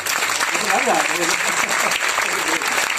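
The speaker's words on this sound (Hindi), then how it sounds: "अरे भैया खुद ही ताली दिला रहे" A crowd at a business boot camp in Kolkata applauds loudly with dense, sustained clapping throughout, while a voice speaks over the applause.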